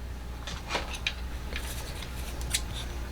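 Scissors snip through lemon-themed deco mesh while a wreath is being made, giving several short, faint crisp cuts spaced irregularly against a quiet room.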